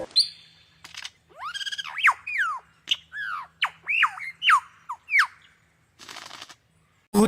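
A lyrebird runs through imitations of other birds' calls: a quick string of sharp, sweeping whistles and squawks in close succession, loud and near, with brief pauses and a low steady hum underneath.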